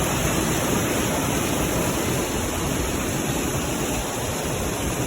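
The fast, monsoon-swollen Tarapheni River near Belpahari rushes past in a loud, steady roar, a constant broadband wash of water that fills the scene without any voices.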